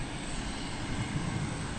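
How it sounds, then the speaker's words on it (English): An American Airlines Airbus A319 arriving at DFW airport makes a steady, broad engine roar without clear peaks, loud and continuous throughout. "It'll be an Airbus A319."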